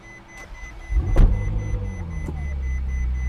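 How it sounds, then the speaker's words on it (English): V8 engine of a 2014 Ferrari 458 Spider sports car at a dealership, heard as a sharp throttle blip that rises and then settles into a steady close idle rumble over about three seconds. "Great sound out of the V8."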